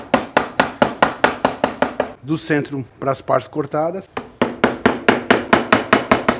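A hammer strikes a chisel in rapid, even blows, cutting away the corners of a simple wooden joint. The blows are loud and close, pause while someone speaks Portuguese, then resume at the same brisk rhythm.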